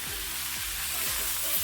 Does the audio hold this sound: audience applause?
no